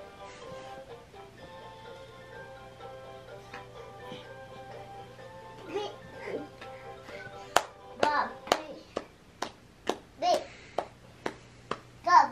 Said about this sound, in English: Are you clapping so much?